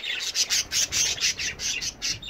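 Budgies in an outdoor aviary let out a rapid run of harsh, chattering squawks in a steady pulsing rhythm, close and fairly loud with no talking.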